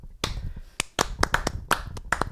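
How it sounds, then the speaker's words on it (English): A small group in a church setting claps in scattered, uneven bursts, roughly a dozen sharp, close hand claps spread over a couple of seconds without voices. "I think man clap for him"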